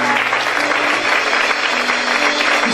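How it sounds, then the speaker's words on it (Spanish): A church congregation claps loudly and steadily, a dense wash of many hands applauding together throughout with no voices standing out. "¿Alguien puede aplaudir al Señor esta tarde? Apláudale fuerte a Jesús."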